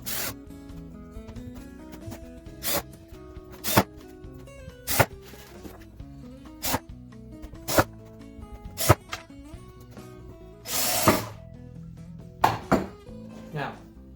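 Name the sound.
fastening down a pipe shelf fitting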